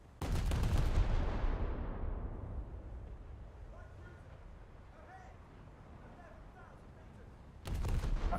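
Naval guns boom in a War Thunder Baltic Sea naval battle: a heavy, loud report opens and rolls off into a long fading rumble, then another blast hits near the end, with faint talk beneath.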